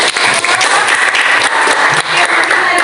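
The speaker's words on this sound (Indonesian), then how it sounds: "Wah, luar biasa, tepuk tangan." Students in a classroom clap together, a loud, dense burst of applause that carries on steadily for a few seconds.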